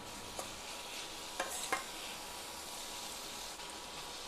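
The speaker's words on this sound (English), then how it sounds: "Next, let's add in our chopped tomatoes. Mix them all really well." Chopped tomatoes being stirred into a squid roast in a hot pan, with a soft steady sizzle and a few scraping clicks of the spoon against the pan, fairly quiet and without talk.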